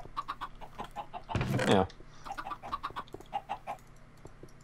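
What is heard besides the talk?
chickens clucking in a video game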